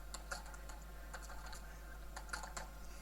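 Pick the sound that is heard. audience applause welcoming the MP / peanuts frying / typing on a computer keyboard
typing on a computer keyboard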